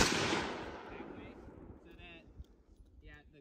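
A single gunshot during outdoor target practice cracks loudly at the start, its blast and rumble fading away over a few seconds, followed by faint background sounds and quiet voices.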